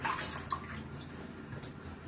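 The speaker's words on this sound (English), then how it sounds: "So what you do is you just wash this in water." Water splashes and runs continuously as a cleaned red snapper is rinsed by hand, a close, steady wash with a few brighter splashes early on.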